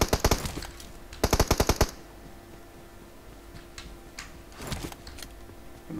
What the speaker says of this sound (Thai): ยิงอยู่ตรงนี้นะ